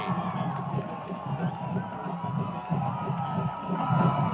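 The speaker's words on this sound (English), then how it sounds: "And listen to that crowd go absolutely crazy." Crowd at a high school football game between Taft and Stevens roars and cheers after an interception, a dense, steady wash of voices with scattered shouts and whoops carrying through the whole stretch.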